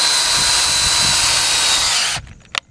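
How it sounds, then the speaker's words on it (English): A power drill boring through a wooden post for an outdoor pull-up bar, a loud steady high whine that stops abruptly, followed by a brief clunk. "All you do,"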